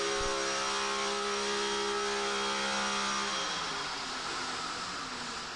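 Jerry Eckman's Pennzoil Pontiac Pro Stock engine roars on a shop dyno in Granville, Ohio, a loud sustained drone that holds steady then begins winding down toward the end.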